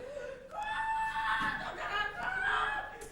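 A human voice imitates a hen, drawn-out clucking and squawking tones held for about three seconds, close and loud, with no real bird present.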